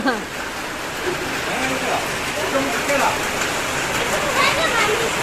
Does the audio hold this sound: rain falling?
yes